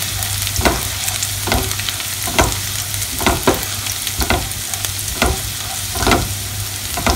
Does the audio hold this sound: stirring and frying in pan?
yes